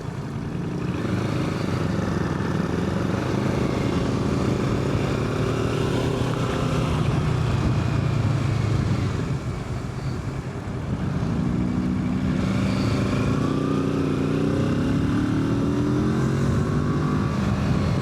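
A Kawasaki Z650 ABS motorcycle engine drones steadily while riding, with rising and falling revs through gear changes and wind rush around it, loud and continuous throughout, with no speech.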